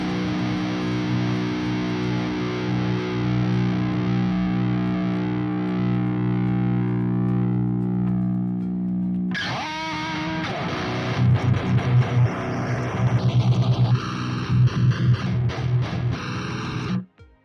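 A sustained distorted drone gives way to heavily processed, distorted MIDI drum hits that swirl and phase in and out, loud and alone.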